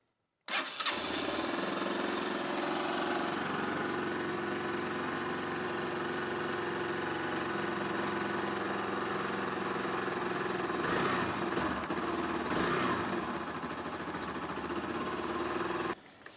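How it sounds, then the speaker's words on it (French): A Yamaha YBR 150 motorcycle fitted with a big-bore kit starts up at once and settles into a steady, close idle for about fifteen seconds before being shut off. "puis on va démarrer la moto."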